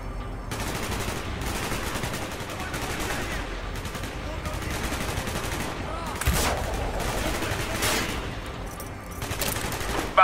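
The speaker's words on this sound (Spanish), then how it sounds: "Los disparos llaman la atención." Sustained bursts of rapid gunfire from Call of Duty: Black Ops, dense and continuous with a few louder shots standing out, no talking.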